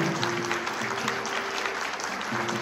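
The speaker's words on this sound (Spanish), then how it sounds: "Más fuerte el aplauso." A church congregation applauds loudly, a dense unbroken wash of clapping from many hands filling the room, steady throughout with a faint hum beneath.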